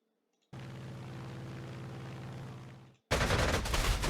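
Heavy automatic gunfire from a Panzer Corps 2 strategy game as a fighter plane is shot down, a dense rattling burst lasting a few seconds before a sharp, louder crackling blast takes over.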